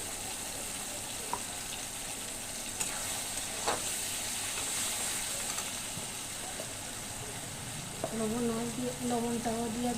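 Spice paste sizzling with tomatoes in a pan, a steady moderate frying hiss with occasional soft clinks, and a brief tonal hum entering near the end.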